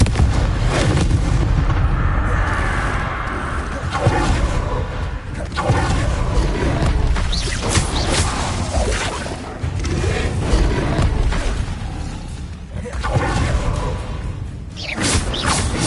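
Expelliarmus and Confringo spell blasts in Hogwarts Legacy, with heavy booming bursts and whooshes following one another almost without pause, loud and dense throughout.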